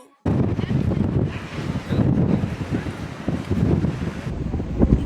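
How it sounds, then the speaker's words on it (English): Strong wind buffets the microphone in loud, roaring gusts, rising and falling continuously after a brief quiet start. "It's just wind. It's just straight wind. Pure wind."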